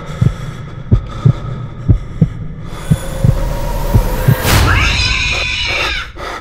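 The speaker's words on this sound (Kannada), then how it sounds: "ಅವನ ಹೃದಯ ಬಡಿತ ಅವನಿಗೆ ಕೇಳಿಸ್ತಿತ್ತು, ಜೋರಾಗಿ, ತುಂಬಾ ಜೋರಾಗಿ" A loud heartbeat effect in a horror story: a steady series of deep double thumps at an even pace, ending in a sharp, shrill rising sweep over a sustained hum.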